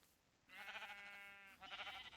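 Minecraft sheep on a sheep farm bleating: two close, nasal baa calls, the first long and wavering, the second shorter, heard alone with no talk.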